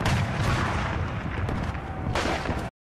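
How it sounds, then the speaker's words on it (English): Union cannon artillery fire in a Civil War battle at Prairie Grove, a sustained roar of booming blasts and rumbling gunfire that swells again near the end and then cuts off abruptly. "The Union cannon explodes to life"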